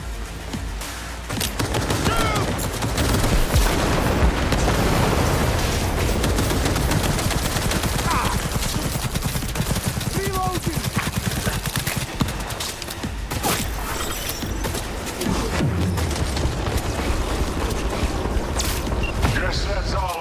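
Continuous loud gunfire and grenade blasts roar during a Cyberpunk 2077 battle against a big mech, a dense unbroken barrage of shots and booms with a voice talking underneath at points.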